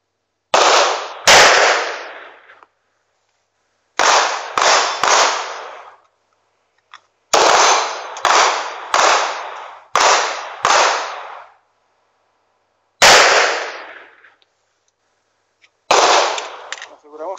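A Luger P08 pistol in 9x19mm fires in quick clusters of two to four sharp, loud shots, each followed by a short echoing tail, with pauses between groups.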